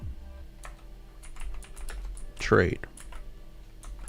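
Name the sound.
typing on a computer keyboard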